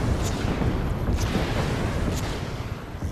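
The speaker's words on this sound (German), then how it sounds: "das gibt doch den richtigen Knall" Steady, dense roar and rumble from a boat exploding into a fireball in the video game Just Cause 3, a continuous loud low-heavy blast wash with faint crackles, no voices.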